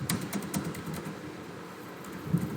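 Quiet clicking of keys on a computer keyboard, a short irregular burst of taps close by, with no voices.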